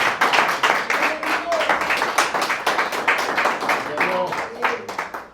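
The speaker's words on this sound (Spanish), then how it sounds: "Eso, si va a aplaudir, denle un aplauso al Señor" Church congregation at a Sunday worship service clapping in a lively, uneven burst that keeps going, with voices calling out over the applause.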